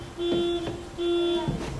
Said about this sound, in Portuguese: E o alarme da minha carrinha está a tocar.